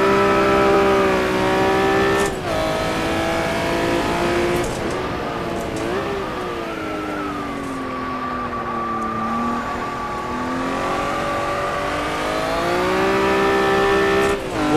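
Honda NSX mod in a racing video game, its engine droning loud and continuous, rising and falling in pitch through gear changes, with brief drops between shifts and tire noise beneath, with no talking.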